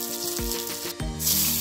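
Rohu fish frying in a pan, a steady, close hiss of sizzling oil with soft clinks and bubbling that grows louder near the end.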